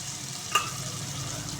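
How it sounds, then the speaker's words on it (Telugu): Ingredients for pappu charu, with turmeric and salt just added, fry in hot oil as a steady close sizzle with one brief sharp spoon clack partway through. "ఇట్లా మంచిగా ఆయిల్లోనే ఫ్రై అవ్వాలి"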